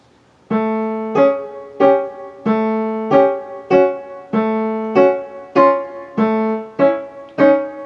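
A piano melodic line from Khachaturian's Waltz (Adventures of Ivan), about twelve evenly spaced, sustained tones with clear attacks and gentle decays, played alone with a lilting pulse.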